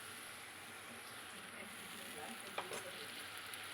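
Ground cumin, coriander and chili powder sauté in a pan for a shol fish curry, giving a quiet, steady frying hiss with a few soft stirring scrapes near the end.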